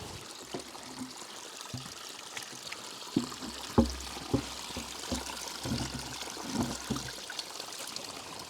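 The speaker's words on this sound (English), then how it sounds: "Let's try and get some water in there." Water pours into a jerry can outdoors, a close, faint trickling stream punctuated by irregular splashes and glugs as the can fills.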